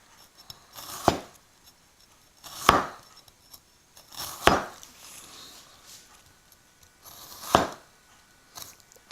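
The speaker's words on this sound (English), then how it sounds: "this is the way to slice the onion" A knife slicing through an onion on a cutting board, four or five separate crisp cuts at slow, uneven intervals, close and clear in a quiet kitchen during a Malaysian cooking class.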